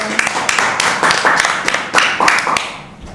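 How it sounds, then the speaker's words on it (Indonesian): Hands clap together in a quick, uneven burst from a small audience at a casual campus talk session, close and fairly loud, with a faint voice mixed in. "Tepuk tangan dong."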